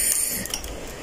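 A domestic knitting machine carriage is pushed across the needle bed to knit a row of a lace pattern, giving a short, steady mechanical ratcheting and clattering run with no pause.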